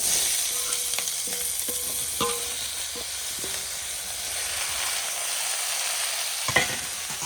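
Bottle gourd sizzles and fries in hot oil with chilli, a continuous close hiss broken by scraping stir strokes and clinks of the spatula against the pan, with no talking.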